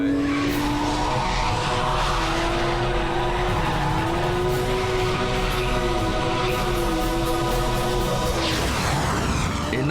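A Porsche 911 GT3 RS drifts on a track, a sustained wavering squeal of tires riding over loud, revving engine noise for several seconds before easing off.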